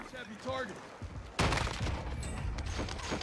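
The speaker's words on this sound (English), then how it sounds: "Picks this gun up now, as he goes up the stairs, already shooting." Dense, loud gunfire from Call of Duty Warzone bursts in after a quieter opening moment and keeps rattling close up until the end.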